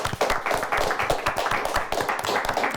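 Audience applause for a high-school quiz team on a televised quiz show, dense steady clapping from many hands filling the room at close range with no talk over it.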